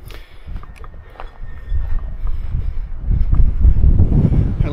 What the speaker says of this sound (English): It's too windy up on this side anyway.